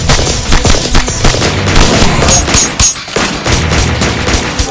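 Gunfire in the video game Evolution: Battle For Utopia, in a bunker sector: loud, rapid automatic bursts and overlapping shots in a continuous fusillade with a brief lull near the middle.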